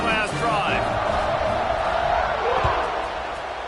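A large stadium crowd roars at an American football game just after a touchdown, a loud, steady wash of cheering that swells and fades slightly, with a commentator talking over it.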